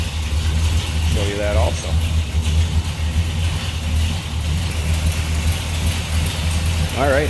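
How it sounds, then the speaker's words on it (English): A 1968 Pontiac GTO engine idles steadily with a deep, even rumble close by, while someone talks briefly over it near the start and again at the end. "We'll pop the hood so you can check out that engine bay and see and hear the engine running"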